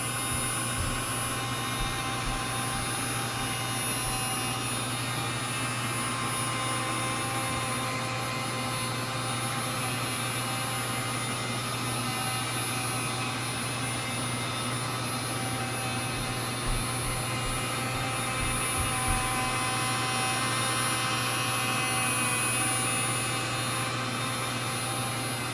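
A rotary polisher fitted with a jeweling pad runs on car paint, giving a steady, unbroken motor drone with a broad whine that holds level throughout, with no voices.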